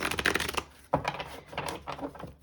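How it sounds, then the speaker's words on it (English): Tarot deck being shuffled by hand in quiet indoor surroundings, a few short riffling bursts with soft card slaps between them, close and fairly faint. "I will give the deck a few more shuffles"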